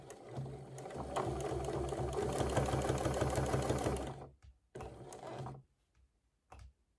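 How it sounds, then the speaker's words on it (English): A sewing machine stitches through batik canvas on a jacket, running steadily and loudly for about four seconds with a fast mechanical rhythm, then stopping, followed by two shorter bursts of stitching with pauses between. "I'm going to continue sewing here."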